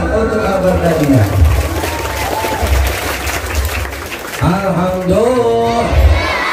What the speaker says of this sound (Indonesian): Tepuk tangan untuk Al-Badaniyah.